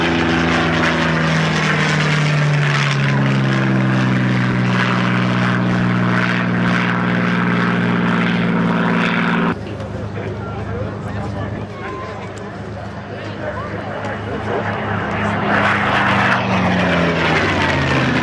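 A Spitfire with elliptical wings flies a display, its piston engine droning loud and steady with a strong low tone, then turning rougher and slightly quieter as it passes, the noise staying continuous throughout.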